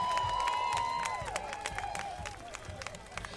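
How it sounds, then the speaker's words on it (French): Audience applause and cheering at a carnival results announcement for a Mardi Gras parade in Basse-Terre, clapping steady and crowd-wide under a sustained whistle or horn tone and a loudspeaker voice. "Est-ce qu'on peut les applaudir, s'il vous plaît?"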